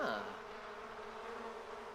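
Bees swarming around a character in The Sims 4, a close, steady droning buzz that starts with a brief louder burst and then holds evenly, with no talk over it.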